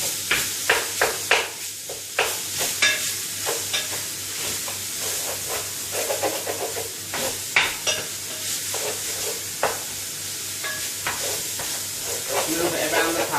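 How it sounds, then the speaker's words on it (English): Ground beef frying in a deep-sided pan for cottage pie, broken up with a spoon: close, repeated scraping strokes over a steady sizzle, with no talking. "You just want to start to break your beef up with a spoon."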